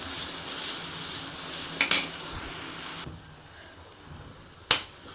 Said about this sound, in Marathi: चार पाच कढीपत्त्याची पाने घेतले आणि कांदा चिरून घेतलेला तो टाकते त्याला छान असं गोल्डन कलर येईपर्यंत चांगलं भाजून घेणार आहे